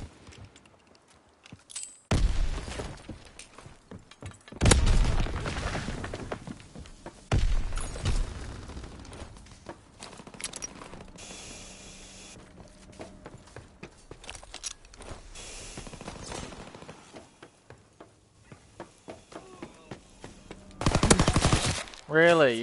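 PPSh submachine gun fire in the Call of Duty WW2 Shadow War DLC, several loud bursts of automatic shooting separated by quieter gaps, with other game noises between them.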